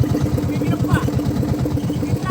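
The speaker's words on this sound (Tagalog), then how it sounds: "pinatay na yung makina" A boat engine runs steadily at idle on the water, a continuous close low rumble with a regular throb from start to end, and no cut-off is heard.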